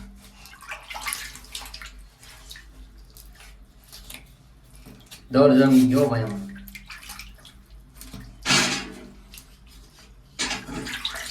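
Water splashing and sloshing while a domestic water tank is washed out, in loud intermittent bursts between stretches of quiet, with someone talking throughout.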